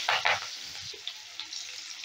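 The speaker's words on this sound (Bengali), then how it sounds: "এবারে পেঁয়াজটাকেও আমি হালকা করে ভেজে নেব, হালকা লাল লাল করে ভেজে নেব।" Chopped onion frying in a pan gives a soft, close sizzle, opening with a couple of louder stirring bursts and then a few light clicks, with no speech.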